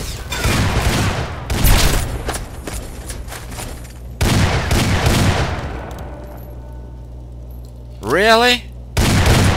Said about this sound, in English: Who is she shooting at?